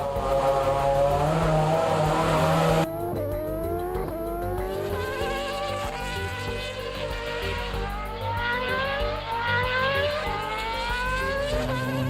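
An Alonso-driven Ferrari Formula One car on a test track screams through repeated rising gear-change sweeps, loud and high-pitched, with the engine note shifting as it accelerates.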